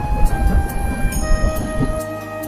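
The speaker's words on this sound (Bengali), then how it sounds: "রায়গাড়া থেকে কোরাপুটের এই ট্রেন যাত্রা" Train running on the Rayagada to Koraput line through a green valley, a low rumbling roll with steady tonal whine and rhythmic wheel knocks, fairly close and continuous.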